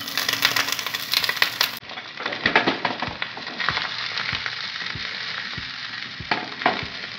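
Sausages and mushrooms frying in a pan over full heat, a bright, steady sizzle broken by repeated knocks and scrapes as they are stirred.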